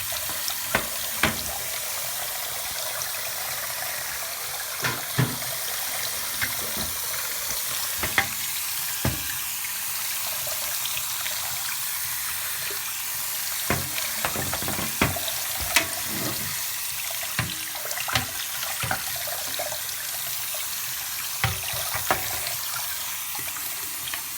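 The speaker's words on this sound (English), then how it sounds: "It's all stuck on the front side, so I'm going to shoot the water through the back." Steady broadband hiss of water spraying hard through the back of a Corsair Vengeance C70 case dust screen, continuous for the whole stretch, with scattered sharp clicks and splatters on top.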